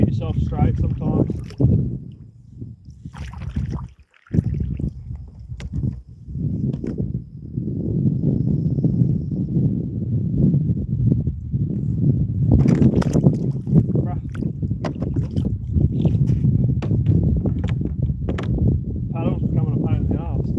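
A small kayak is paddled on calm water: soft splashes and strokes rustle close by under steady wind noise, and someone talks over much of it.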